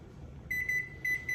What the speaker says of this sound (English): We have this timer on the stovetop that we need to work with